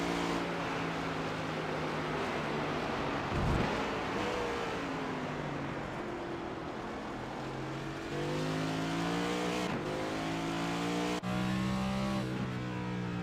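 Race car in an SRL Cup Series racing game at the Napalachia Grand Prix, engine droning and revving steadily through a lap while tires are warmed, with pitch rising and falling through shifts and corners.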